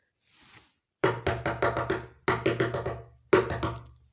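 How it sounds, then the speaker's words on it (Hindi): Knocking on a door comes in three quick bursts of about four raps each, crisp and close, with short pauses between the bursts. "इतनी सी देर में दरवाज़ा बज गया।"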